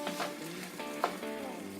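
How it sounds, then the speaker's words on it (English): Potatoes for corned beef hash sizzle steadily in a hot pan, a constant frying hiss with occasional soft stirring scrapes. "So my potato mix is all frying up good."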